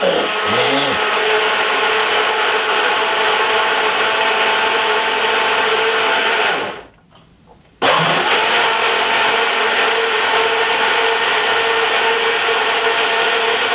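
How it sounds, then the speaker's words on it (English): A Ninja blender whirring through a smoothie drink, a loud steady motor roar that cuts out briefly midway and then starts straight back up, with no talking. "I'm just going to be simple, blending this drink"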